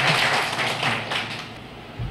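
Audience applause greeting a speaker at a Tamil public event, a short burst of dense clapping from a crowd, fairly loud and close, with a few heavier thumps near the end.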